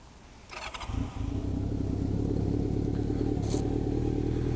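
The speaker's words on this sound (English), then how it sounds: "You guys just love the sound of this exhaust." A motorcycle with an aftermarket exhaust starts with a brief clattering crank, then settles into a loud, steady, throaty idle that fills the rest of the recording close by.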